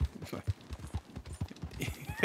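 Horse hooves clip-clop in a quick, uneven rhythm in the video game Red Dead Redemption 2, moderately close, with some background game sounds.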